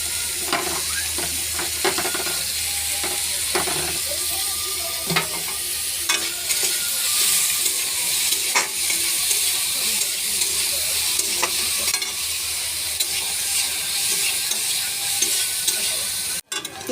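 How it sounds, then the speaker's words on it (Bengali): Onion and green chilli sizzle loudly in a pan of hot oil, with a constant crackling hiss broken by frequent scraping clicks of a spatula stirring, and no talk. "আমি পেঁয়াজ আর কাঁচা লঙ্কাটা ভেজে নেবো।"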